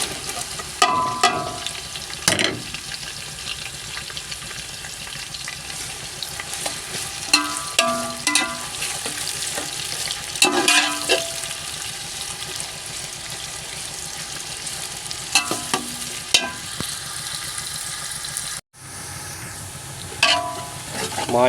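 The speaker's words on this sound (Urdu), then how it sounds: "پیاز ساڈے فرائی ہو گئے" Chopped onions fry in hot oil in a pan while preparing spiced masala for an aloo gobhi cauliflower curry, a steady dense sizzle with intermittent scraping and stirring clatter throughout.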